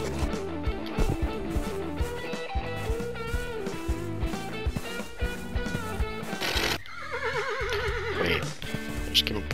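Busy Forestry Simulator 2017 game audio with steady hoofbeat-like clopping and music, ending in a loud, wavering horse whinny near the close.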